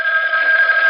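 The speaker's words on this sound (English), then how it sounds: "The phone is ringing." A telephone bell rings steadily and alone for about a second, a loud, continuous trilling ring set in a 1970s radio drama.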